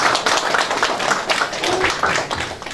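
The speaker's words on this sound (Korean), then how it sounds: "큰 박수 부탁드립니다." Applause from an audience at the opening ceremony of a National Assembly member's campaign office in Yeoju, Korea: a steady patter of hand claps that fills the whole stretch at moderate loudness, with no clear voices over it.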